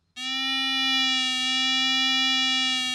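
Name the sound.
metal detector target signal tone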